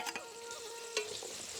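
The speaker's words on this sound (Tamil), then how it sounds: "உருளைக்கிழங்கு கரெக்டெலாம் நல்லா வதங்கி வருது" Potatoes sauté in a pan for a white curry cooked outdoors in a forest, with a brief stir scraping through a soft, steady sizzle that is short and fairly faint.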